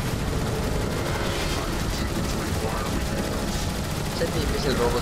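Rapid gunfire from the Decepticon campaign of the video game Transformers War of Cybertron, a dense continuous barrage of shots and blasts that stays loud throughout.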